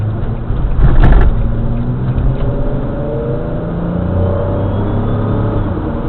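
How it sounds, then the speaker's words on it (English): Nissan Maxima accelerating hard on the road, a steady engine drone that swells early on and holds as the transmission works up through its gears toward highway speed, heard from inside the car. "a good spot to show you the acceleration and the transmission shift points and everything"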